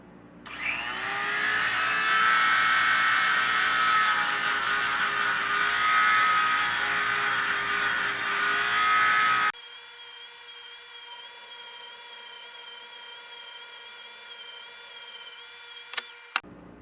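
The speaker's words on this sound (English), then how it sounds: "I'll knock them down with a sanding drum and a Dremel tool." A Dremel rotary tool fitted with a sanding drum deburrs a hole in a home-made climbing cam, a steady high whine running for about nine seconds, then a thinner, higher tone as the tool spins down.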